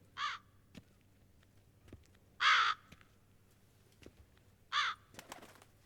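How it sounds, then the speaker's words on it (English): Crows perched together on a rooftop in the Witcher 3 video game give three separate harsh caws spaced a couple of seconds apart, moderately loud against a quiet ambient background with faint clicks. "There's a lot of birds on one roof."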